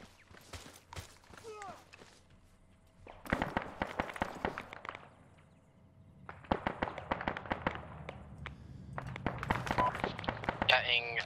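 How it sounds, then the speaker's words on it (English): Crackling volleys of rifle fire during a military field training exercise, sharp rapid pops in clustered bursts separated by pauses, fairly distant, with people talking underneath. "I got heavy fire from the west."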